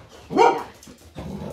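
Pet dogs barking indoors: one loud close bark with a whimpering edge, then a quieter, lower rumbling bark-growl after a brief pause, with no talking.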